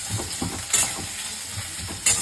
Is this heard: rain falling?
no